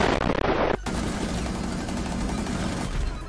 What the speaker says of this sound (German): Ich hab doch die ganze Zeit auf ihn draufgeschossen!